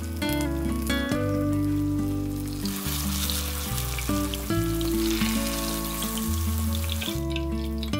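Fish frying in a pan, a steady hiss of sizzling oil running under louder background music throughout.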